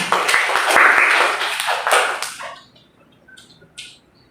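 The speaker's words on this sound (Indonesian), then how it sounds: "Tepuk tangan untuk teman kalian." A classroom of students applauds a classmate with a short burst of clapping that fades out after about two seconds, followed by a few faint taps.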